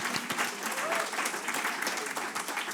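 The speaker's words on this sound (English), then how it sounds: "Give it a big applause." A dense wash of audience applause at a queer community gathering in Amsterdam, steady and fairly loud for a few seconds with scattered voices mixed in.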